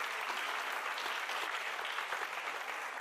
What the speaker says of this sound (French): Excellent, vous pouvez applaudir.